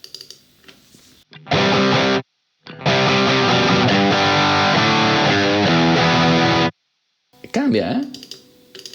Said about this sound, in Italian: Sentite senza riverbero?